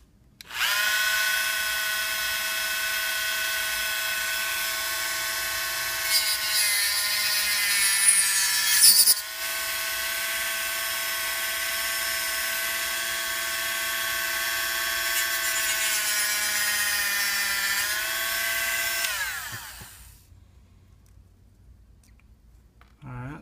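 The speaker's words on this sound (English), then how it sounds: "little Dremel here, and see if I can't trim off the front of this brush guard" Small Dremel rotary tool whines at a steady high pitch while trimming the brush guard on a Hot Wheels Toyota Land Cruiser die-cast toy, with brief load changes as it cuts, then winding down and stopping near the end.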